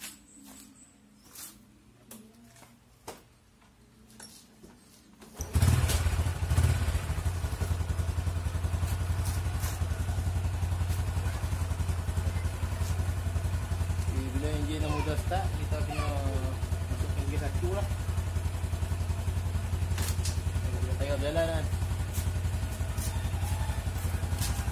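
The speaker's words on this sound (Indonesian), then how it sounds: "kita kena start engine motor dulu lah." A motorcycle engine starts after some quiet handling clatter, then settles into a steady, loud idle with a deep rumble; a voice talks over the running engine midway through.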